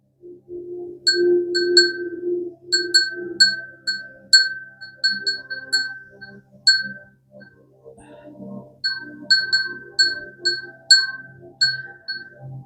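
A small handheld bell tinkles in repeated bright dings, struck in quick clusters with short pauses, clear and close, over a faint low background hum.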